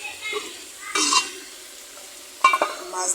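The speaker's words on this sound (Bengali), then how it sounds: "আর এটা হচ্ছে সেই মাছগুলো ভেজে রাখছি" Fresh canal-caught fish frying in a pan, a steady sizzle with two louder bursts of crackling and stirring, heard alone at close range.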